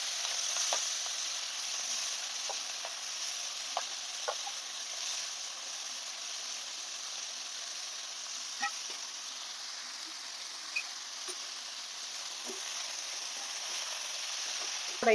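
Constant hissing sizzle of tempering spices in hot oil, fairly soft and even, with occasional small pops and clicks throughout.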